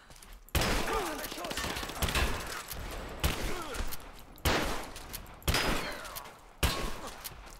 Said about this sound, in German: Ich stehe unter Beschuss.